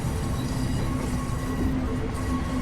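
The Sacramento Northern interurban train in Train Simulator Classic runs with a continuous loud rumble of wheels and motors and a steady tonal whine, with no voices.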